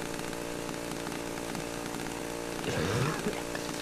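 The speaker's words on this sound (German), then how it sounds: "Und der Sauer sägt sich den Kopf ab." A chainsaw snarls in the horror video game Cry of Fear, a steady loud buzzing engine that swells and grinds harder near the end as it cuts.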